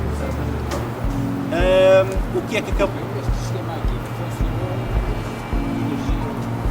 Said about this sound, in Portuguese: é um motor a gasóleo, tem acoplado um gerador